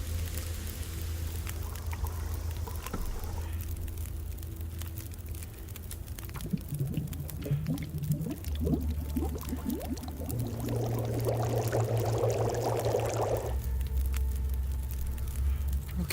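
Water is poured and boiled in the video game Stalker. A low steady hum runs beneath a trickling, patter-like stretch, then a brighter bubbling burst, all moderately quiet with no voices.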